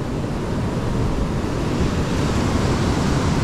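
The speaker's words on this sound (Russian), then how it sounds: "Да, до стенки аж доставала здесь волна." Stormy sea on a Crimean beach, with waves surging far enough up the shore to reach the wall, makes a constant heavy wash of surf mixed with wind buffeting the microphone.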